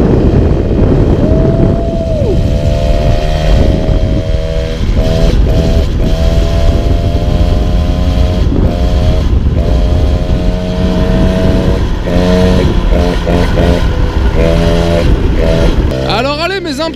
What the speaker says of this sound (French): Donc là on va faire quelques tours de chauffe, histoire de bien faire chauffer le moteur.